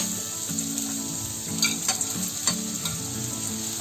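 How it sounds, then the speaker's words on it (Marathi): Chopped carrot and radish fry together in a few spoons of oil in a wok, giving a close, steady sizzle broken by light stirring scrapes. "हे गाजर आणि मुळी थोडीशी तेलामध्ये फ्राय करून घेते एकत्र."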